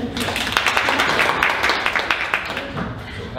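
A crowd claps steadily in a room, many hands overlapping into a dense, continuous patter that tapers slightly toward the end.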